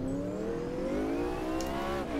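Mercedes race car in a sim racing game, its engine revving steadily with rising and falling pitch, loud and close throughout a short stretch with no talk.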